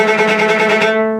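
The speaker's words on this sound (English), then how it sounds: "I find that what I really need is a super scrubby détaché bow stroke." Violin played with a short, scrubby détaché stroke in rapid sixteenth notes on an open string, a gritty buzzing pulse heard close and fairly loud for about a second before fading.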